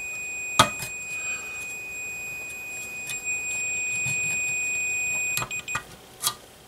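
A multimeter set to continuity while testing ground straps on a tube amplifier gives a steady high beep held for several seconds, with sharp clicks and taps of the probes before and after.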